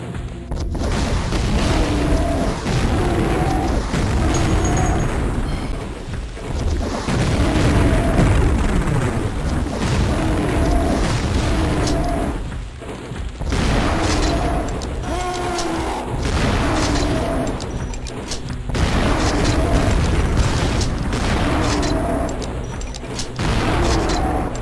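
Rocket launcher explosions in a video game give a steady barrage of booming blasts and rumbling detonations across the whole stretch. A faint voice sits under the noise at times.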